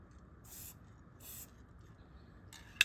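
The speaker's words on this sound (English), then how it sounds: "I've never tried a star with a spray paint can." Short bursts of hiss from a spray paint can spraying a star, three brief sprays separated by pauses, faint against a quiet background.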